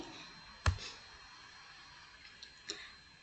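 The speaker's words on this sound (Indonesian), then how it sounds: "Nah, kita klik yang pada bagian ini." A computer mouse clicks twice, sharp close taps a couple of seconds apart, in a quiet room during a software tutorial.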